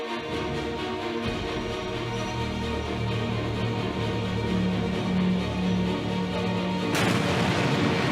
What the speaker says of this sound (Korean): 지금 발전동 2호기에서 추가 폭발이 발생했습니다